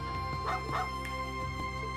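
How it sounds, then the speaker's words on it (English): A hound companion barks in the video game Trails into Reverie, a few short yips and bow-wows over steady game music, close and clear. "Woof woof."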